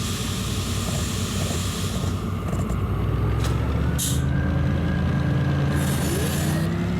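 A locomotive in the Derail Valley railway game pulls away after its handbrake is released: a loud, continuous mechanical rumble with a rising engine tone, brief hisses of air and a few bright squeals over the drone.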